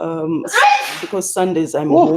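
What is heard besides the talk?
sneeze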